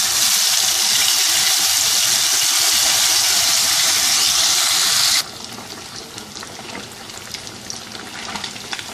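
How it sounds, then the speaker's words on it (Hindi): Fish pieces frying in hot oil over medium heat, a loud, dense sizzling hiss that suddenly drops to a softer, crackling bubbling partway through, close up with no talking. "अब इसमें ये फ़िश के पीसेस डालेंगे और इसको अच्छा गोल्डन फ्राई कर देंगे।"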